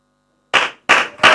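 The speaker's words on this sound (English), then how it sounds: "People should clap." Audience members at a tech community conference session break into three short, loud bursts of clapping after silence, each burst fading quickly.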